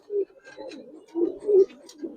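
Pigeons coo nearby in several short, low throaty bursts, soft and close, with a quiet pause between calls.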